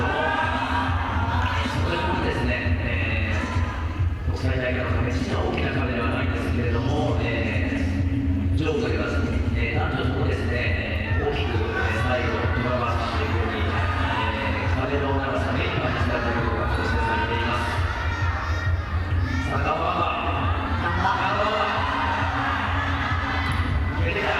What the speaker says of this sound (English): You can hear the Japanese crowd cheering every move that Mo Yoshimura makes.